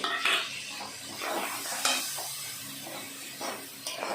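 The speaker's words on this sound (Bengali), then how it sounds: "এখন মশলাটাকে কষে নেব।" Turmeric, chili and cumin powders with a little salt frying in a pan as they are stirred, giving a low sizzle with repeated scraping strokes and an occasional clink of utensil on metal.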